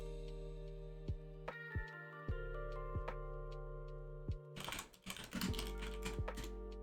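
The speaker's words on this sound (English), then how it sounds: "is my keyboard too loud?" Computer keyboard typing picked up by a nearby mic, a sparse run of separate key taps followed by a quick burst of faster keystrokes, heard over a steady background hum.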